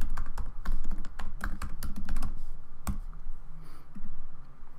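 An email address typed on a computer keyboard, heard up close as quick, uneven bursts of crisp key clicks with short pauses, then a few spaced taps, with no talking.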